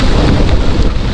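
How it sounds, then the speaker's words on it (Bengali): Heavy rain pours down at night with rolling thunder, a dense, loud, unbroken roar of falling water and low rumble filling the whole moment. "বৃষ্টি তো জোরে নেমে গেছে"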